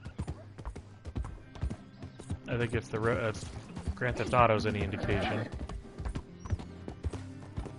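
Horse hooves clop in Red Dead Redemption 2 on PS4, a soft rhythmic patter running beneath someone talking through most of the stretch.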